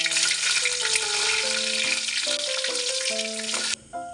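Four whole dried chilies crackle and sizzle hard in hot mustard oil already holding whole spices and a bay leaf, a loud, dense frying hiss with faint scraping that stops abruptly near the end.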